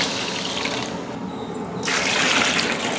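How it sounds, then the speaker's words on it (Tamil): Water poured from a vessel into a cooking pot of rice for a large vegetable biryani, a steady close splashing gush that dips briefly then returns fuller, with no talk. "இப்போ தண்ணி சேர்த்துக்கிறேன்."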